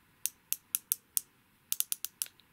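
Sharp clicks come from a Hello Kitty ruler as it moves, five spaced clicks and then a quicker run of about six, close and crisp against quiet.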